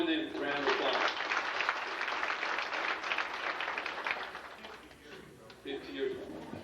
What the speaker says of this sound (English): Let's join them for a round of applause.